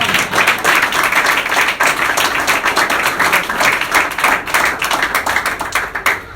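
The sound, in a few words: congregation applauding loudly in church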